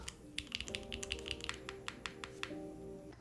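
Mechanical keyboard keys fitted with QMX stabilizers clack in a quick irregular burst, crisp close-up presses and some deeper thocks from larger keys such as the spacebar, with no talking.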